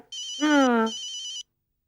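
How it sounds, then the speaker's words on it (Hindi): A telephone ringtone chimes in a home setting, a bright electronic melodic ring that sounds close and clear for about a second and a half, with a brief voice overlapping it midway. "आई थिंक अटकुस राम का फोन आया है।"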